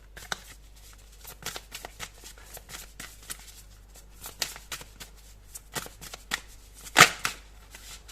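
Tarot cards are shuffled and drawn by hand, giving soft, quiet riffling and slapping clicks in an irregular rhythm, with one sharper snap near the end.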